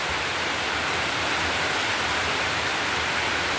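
Heavy typhoon rain in the rural province of Ragay: a steady, dense broadband roar of downpour, loud and unbroken, with no voices.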